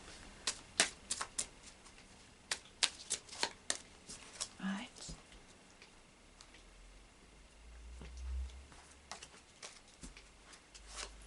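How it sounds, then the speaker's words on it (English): Oracle cards shuffled and drawn from a deck, giving a run of sharp, close flicks and taps that thin out midway, followed by soft handling and a low rumble; a voice speaks at points. "just put those back. I'll just take one card from the Oracle of Visions."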